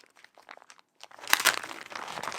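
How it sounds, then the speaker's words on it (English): Parcel packaging being unwrapped, with bursts of close crinkling and crunching that grow louder and denser in the second half after a few quieter rustles. "Well, there's a little bit more unwrapping."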